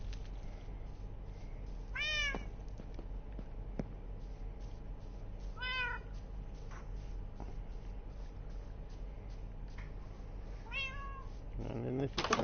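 Cats meow in a Minecraft-style video game played on PS4, with three separate rising, warbling calls spread across the clip over a steady low game ambience; no speech.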